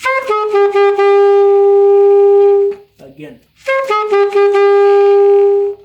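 An alto saxophone plays a short melody and holds a long, loud note. A voice briefly speaks, then the saxophone repeats the phrase.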